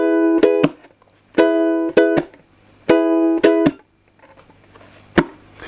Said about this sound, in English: Let's just play this just on an E to start off with.